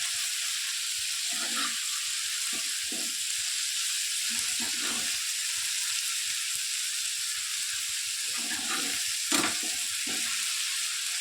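Salted onion and tomato pieces fry in a pan for a spicy Andhra chutney, a constant bright sizzle with occasional soft stirring scrapes and a few louder pops.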